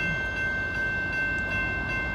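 A southbound train rumbles past at night with a steady, loud, sustained roar and high metallic tones, a continuous wash of rail noise close by.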